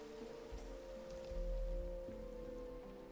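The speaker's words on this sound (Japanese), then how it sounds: "雨やだな" Steady rain falls in a Minecraft world, a soft continuous hiss with a low rumble and a few brief swells, heard alone without voices.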